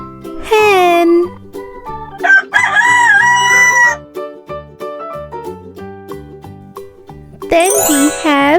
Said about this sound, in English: Here we have hen. This is hen.